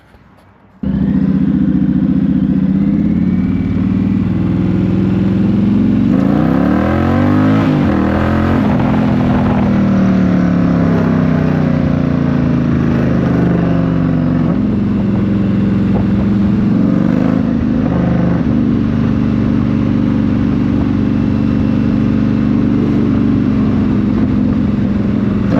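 An Indian Challenger motorcycle fitted with a chain-drive conversion starts off and rides, its engine a loud, steady drone with rising and falling revs as it accelerates and shifts, close throughout with no talk.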